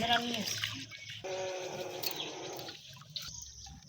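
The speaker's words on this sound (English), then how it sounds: "We are washing the rice." Rice washed by hand in water, with close sloshing and swirling, brief splashes and trickles, and a pause between bursts of movement.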